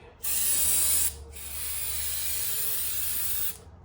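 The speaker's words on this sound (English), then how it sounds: "I'm just doing carb choke cleaner." Carb choke cleaner sprays from an aerosol can during a VW MK7 EA888 Gen 3 cam cover reseal, two close, loud hissing bursts, a short one then a longer one after a brief pause.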